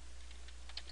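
Quiet, rapid typing on a computer keyboard while setting up MySQL, soft clustered key clicks over a steady low hum, no voices.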